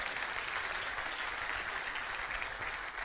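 An audience claps in a steady, dense wash of applause at an event, sustained and even throughout, with no talk over it.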